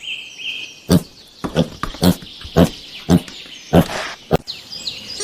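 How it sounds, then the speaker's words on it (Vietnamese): Wild boar giving a series of about seven or eight short, harsh grunts in an irregular rhythm, loud and close, with high bird chirping faintly in the background and no voices. "Con lợn rừng"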